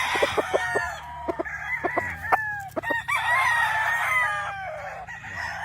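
A gamefowl rooster on a gamefarm crows loudly and close by. It gives a run of clucking notes first, then rising and falling crow calls that fill most of the few seconds, with steady low background noise underneath.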